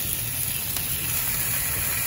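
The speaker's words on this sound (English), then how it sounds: "Now I'm going to take my sausage and just go ahead and put it in." Smoked sausage sizzles in hot oil in a frying pan, a steady, even hiss that stays close and holds at one level the whole time.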